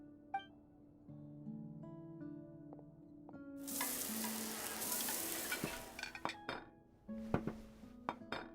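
Food sizzling and frying in a pan in a video game cooking scene, with a burst of crackling grease, stirring and metallic clinks of utensils over soft background music tones, and no voices.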